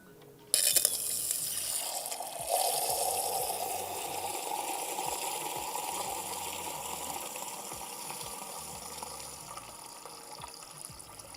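Water pouring steadily into a measuring container for a salt experiment, a continuous gushing fill that starts abruptly and holds at an even level for several seconds with no talk.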